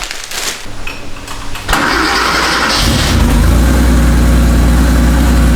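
A Porsche 930 Turbo engine cranks and catches with a sudden rise in loudness, then settles into a steady, deep idle rumble close by.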